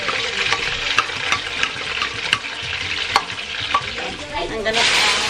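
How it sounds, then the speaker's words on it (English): Onions fry in hot oil in a pan, giving a loud continuous sizzle with scattered crackles and spoon clicks, swelling into a brighter hiss at the very end. "I am throwing some onions in it"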